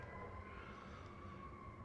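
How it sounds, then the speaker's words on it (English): A faint, steady siren wail drifts in from a distance over low background rumble, with no voices. "I apologize for the sirens you're about to hear."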